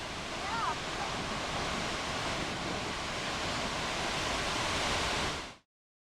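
Niagara Falls pours in a continuous, dense, broadband roar that stays steady and loud for several seconds before cutting off abruptly.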